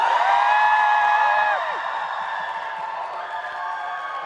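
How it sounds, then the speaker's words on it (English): A student crowd at a pride event cheers and whoops for Sussex in a voguing contest, a loud swell of shouts and high calls at first, easing off into a lower sustained roar. "if you think that Sussex should be our Voguing Queens 2019, please cheer now"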